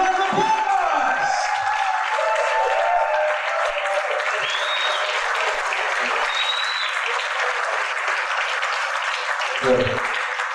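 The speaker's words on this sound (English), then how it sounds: "Big round of applause!" A conference crowd at a business kick-off event in Toronto breaks into loud, sustained applause lasting around ten seconds. There is some cheering, and a few brief low thumps come near the start and close to the end.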